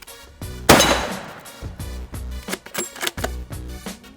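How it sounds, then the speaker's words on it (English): A single loud rifle shot firing 162 grain Precision Hunter ELDX ammunition outdoors, a sharp close crack with a short decaying tail, followed by clicking handling noises. "I guarantee you, at 50 yards, I'll shoot them in the eyeball."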